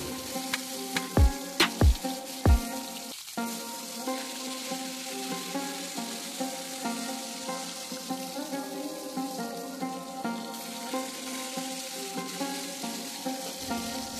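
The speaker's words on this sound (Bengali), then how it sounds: "মাছগুলো ভাজতে দিয়ে দিয়েছি" Fish fry in a hot pan at home, a steady bright sizzle and spatter that runs the whole time, with a few sharp clinks of utensils near the start.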